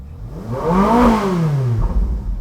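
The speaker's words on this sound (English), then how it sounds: "So when you rev the engine" A Ferrari 458 Speciale V8 engine revs up hard, pitch climbing to a peak and then falling back as it winds down, loud and close, with no talking.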